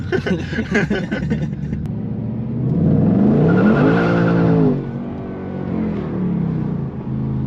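A supercharged 2024 Mustang Dark Horse (Gen 6) with a Whipple supercharger, heard on the road from inside: a loud, steady engine drone that swells into a strong rev midway, then settles back to cruising rumble.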